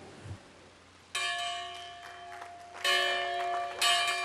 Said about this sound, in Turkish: Obama, köleler ve özgür siyahların birlikte inşa ettiği bir kiliseden getirilen çanı çalarak